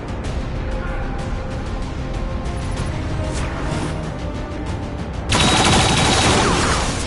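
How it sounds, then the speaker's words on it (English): Hostile weapons fire in XCOM 2, a dense, steady barrage of game gunfire that grows suddenly louder and harsher near the end. "Hostile weapons fire."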